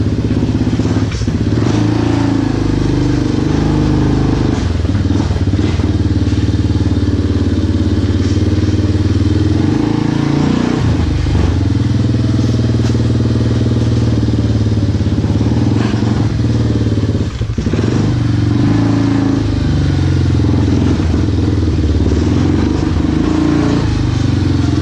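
A BigBear 400 ATV engine with a newly installed clutch kit and a fuel issue runs loud and close, revving and droning continuously with rough clattering and a few thumps, no speech over it.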